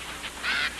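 Park ducks give a short, nasal honk and quack, brief and moderately close, heard alone with no voices.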